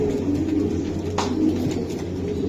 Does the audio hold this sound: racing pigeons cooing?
yes